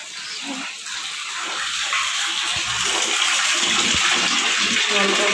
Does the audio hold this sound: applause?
no